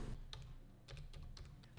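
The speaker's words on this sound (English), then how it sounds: "you can give the command STL out using the keyboard" Computer keyboard keys clatter in quick, uneven bursts of clicks as an STL out command is typed for AutoCAD 3D printing, close and steady against a low background hum.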